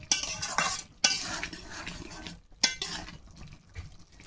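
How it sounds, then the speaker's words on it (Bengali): A spoon stirs a Bengali village-style curry of figs and ghetkol in a pan after a sprinkle of coriander powder, with a few sharp clinks against the metal between soft, wet scraping and brief pauses. "দিয়ে একটু নেড়ে ছেড়ে দিলাম"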